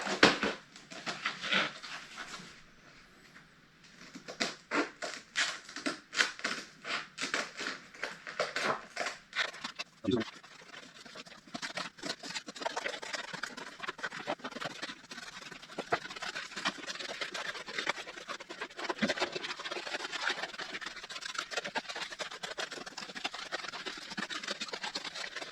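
Dense, rapid scratchy cutting noise while an 80s G&S Neil Blender skateboard is set up, a close continuous rasp with irregular bursts that sounds sped up, and no voices.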